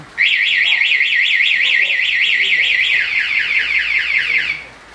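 A car anti-theft alarm, warning when the car is touched or moved, warbles rapidly up and down in a loud, steady electronic chirp, then shifts to a slightly different pattern before cutting off.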